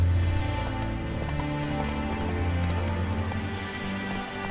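Hooves of a horse galloping in The Witcher video game, a rapid continuous clip-clop with rhythmic thuds over a low game soundscape, close and steady.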